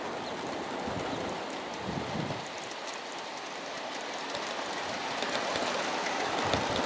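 An Aristo SP Dash 9 model coal train runs on a layout at moderate speed, giving a steady, fairly quiet rolling hiss and rumble that continues without a break and with no voices.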